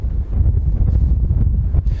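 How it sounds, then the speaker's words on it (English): Heavy wind buffeting the microphone outdoors in Kent, producing loud, gusty low-frequency rumbling throughout with no voices. "It's very windy here."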